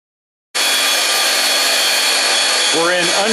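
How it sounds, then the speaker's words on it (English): Small Atlas tool post grinder mounted on a lathe switches on abruptly and runs at high speed, a loud, steady, high-pitched whine and hiss with a brief wavering tone near the end. "I've got my little Atlas tool post grinder on there because I didn't have anything that would cut that"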